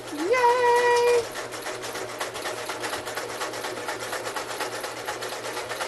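A sewing machine stitches a pillow seam, opening with a brief rising motor whine and then settling into a rapid, even run of stitching pulses close by.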